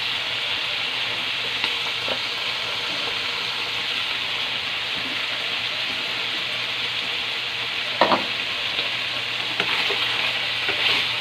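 Chicken liver stir-fried in a pan with oyster sauce sizzles steadily and close by, with occasional scrapes and clinks of a spatula stirring near the end.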